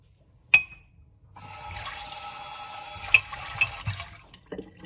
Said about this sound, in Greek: Θα προσθέσω λίγο νεράκι.